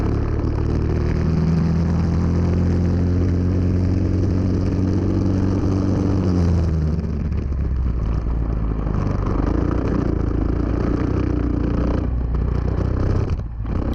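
A GX-UK go-kart engine running steadily through a lap on a slippery track, droning loud and close with shifting pitch as the throttle changes, and no voices over it.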